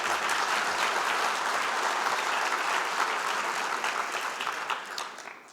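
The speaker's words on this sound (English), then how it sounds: "Can we please give them a round of applause?" An audience at a technology conference session gives a steady round of applause, dense and fairly loud, thinning slightly toward the end.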